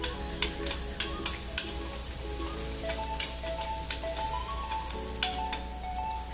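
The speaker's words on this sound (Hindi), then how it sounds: "बहुत अच्छे से दोनों को हम मिक्स करके 8-10 सेकंड तक भूनने देंगे।" Finely chopped garlic and ginger stir-fry in a pan with a steady crackling sizzle, punctuated by regular sharp clicks of a spatula against the metal, fairly close and with no voices.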